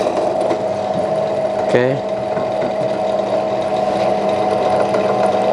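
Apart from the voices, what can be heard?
Yasuka YDP 103A bench drill running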